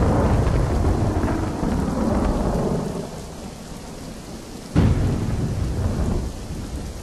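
Heavy rain pours steadily in a loud, continuous wash while thunder rumbles through the first few seconds, followed by a sharper crack near the five-second mark during a storm.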